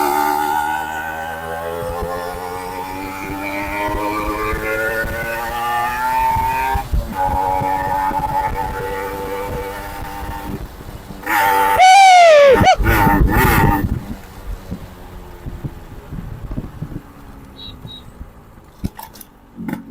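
A Yamaha RX100 two-stroke motorcycle is ridden, its engine droning with a buzzing, shifting pitch, then rising in a loud, sharp burst of revving midway before settling back down, close and prominent throughout.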